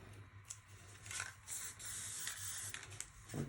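Spray paint can hissing in short uneven bursts, faint and close, with brief pauses between sprays.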